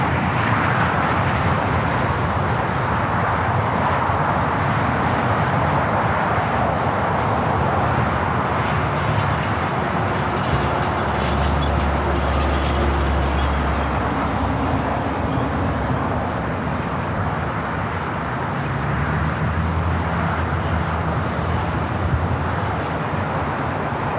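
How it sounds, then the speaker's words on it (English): A heavy China Cargo Airlines freighter on approach to the south side of LAX, a steady broad jet roar with low rumble holding for the whole stretch under airport ambience, no talk. "the China Cargo Airlines Flight 221 is our next heavy arrival here on the south"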